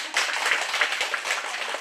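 A church congregation claps together in steady, dense applause, loud and close, with no talk over it.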